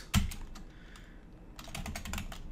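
Someone types on a computer keyboard, with a sharp opening keystroke followed by a burst of rapid, uneven clicking, close and moderately loud.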